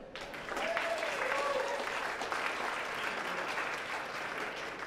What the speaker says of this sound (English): If you wouldn't mind helping me give them a big round of applause